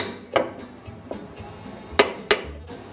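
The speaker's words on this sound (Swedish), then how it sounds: "Ta en liten spikdrivare och dra i det sista." A hammer drives nails home with a nail set into a small wooden cabinet, giving a few sharp, separate metallic taps close by in a quiet room.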